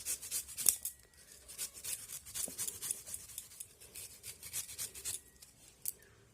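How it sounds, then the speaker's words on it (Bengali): A peeled carrot is rubbed against a kitchen grater in quick, repeated scraping strokes, close up and fairly quiet, with no talking. "এবারে গ্রেটারেই আমি এই গাজরটাকে গ্রেট করে নেব।"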